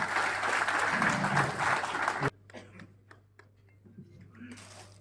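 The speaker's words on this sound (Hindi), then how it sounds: "मैं कमिश्नर साहब से भी गुजारिश करता हूँ कि वो इस तोहफे को कबूल फरमाइए जोरदार तालियों के साथ।" Applause at a bakery association awareness program held with the food safety authority, a loud burst of clapping that cuts off sharply after about two seconds, followed by quieter scattered sounds and low voices.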